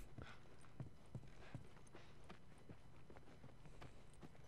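Faint, uneven clip-clop of video game horse hooves on hard ground, a few scattered steps at a slow walking pace, heard from a distance.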